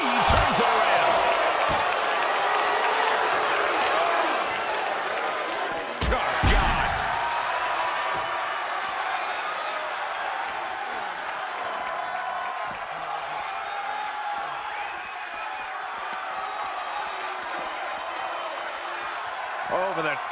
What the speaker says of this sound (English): With every move you make, you hear this capacity crowd following you on that journey.